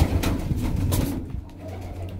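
Pigeons cooing in a loft of Punjabi Malwai pigeons, soft throaty low coos repeating close by, several overlapping, with faint rustling and background noise.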